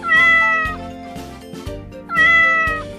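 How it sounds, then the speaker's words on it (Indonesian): A cat meows twice, clear and close, each call drawn out with a falling pitch and a short pause between them. "kucing"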